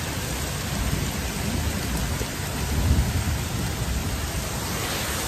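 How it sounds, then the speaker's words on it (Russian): Small hailstones pelt down and bounce during a mountain storm near Almaty, a steady loud hiss with low thunder rumbling underneath that swells briefly midway, no voices. "Градинки отпрыгивают, но небольшие."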